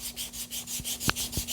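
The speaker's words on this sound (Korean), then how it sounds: "결을 방향으로 맞추어 사포질을 해주세요." Wood being sanded by hand with sandpaper, a steady rhythmic back-and-forth rubbing with about eight even scratchy strokes, close and fairly soft.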